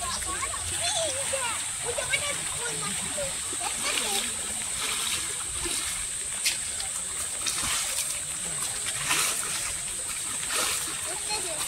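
Water poured out during traditional hand fishing splashes and sloshes steadily and close by, with voices talking over it throughout.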